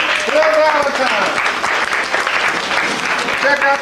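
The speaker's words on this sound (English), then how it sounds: "With that, give him a round of applause." Audience applause at a lecture event bursts out as a steady, dense wash of clapping, with a voice talking over it throughout.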